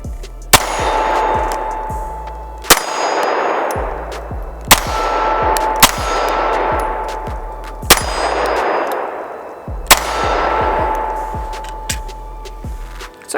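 A Mossberg MC1sc pistol fitted with a 7-round extended magazine fires in quick strings at steel targets, each sharp report followed by a bright ringing clang, with loud groups separated by brief pauses.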